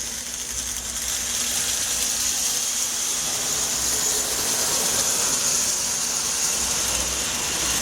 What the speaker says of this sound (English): The motor's been rebuilt in this locomotive also. As you can see and hear, it runs really well.